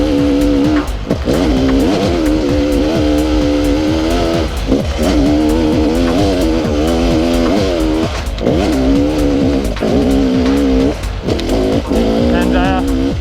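An RR300 enduro motorcycle engine rides in lower gears over rocky trail ground, loud and close throughout, with its revs rising and dipping constantly as the throttle is worked.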